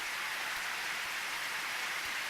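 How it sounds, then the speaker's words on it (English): Heavy rain falls steadily in the video game Edelweiss, a dense, even hiss of downpour with no pauses and no voices. "Sure enough, the rain got harder."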